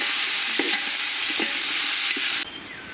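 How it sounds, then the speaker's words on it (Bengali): Chicken pieces frying in oil, a loud steady sizzle with a few scraping stirs of the spatula, the sizzle dropping off sharply near the end. "মাংসটা একটু তৈলে ভাজি করে নেব"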